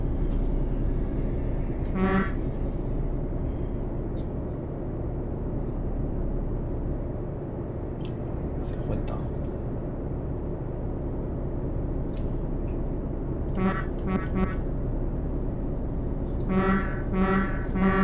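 Truck horn in Euro Truck Simulator 2, sounding in a few short honks over a steady low engine rumble, with a brief toot early and a cluster of blasts near the end.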